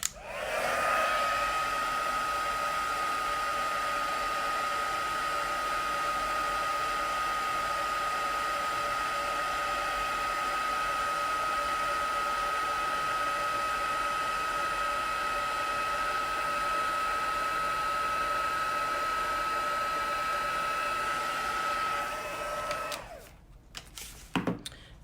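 A heat gun runs in one steady, loud, unbroken whoosh with a whining tone while heating powder coating on a small part, holding constant for over twenty seconds before cutting off, followed by a few faint handling clicks.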